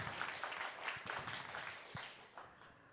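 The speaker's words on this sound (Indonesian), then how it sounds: "saya ingin tepuk tangan yang meriah sekali lagi untuk Bunda Putri Koster." Audience applause at the final of the Bintang POP Bali singing competition at RRI Singaraja, heard as a quiet, steady patter of many hands clapping with faint distant voices mixed in.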